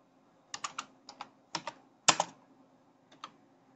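Keystrokes on a computer keyboard while typing an HTML page title, coming in short clustered bursts of separate clicks with brief pauses between them, fairly close and quiet over a faint steady hum.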